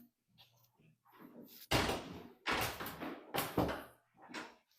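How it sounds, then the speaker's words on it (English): A door is shut inside an old state house, giving several sharp thuds and knocks in a short burst, with quieter shuffling sounds before and after. "It sounds like you shut the door."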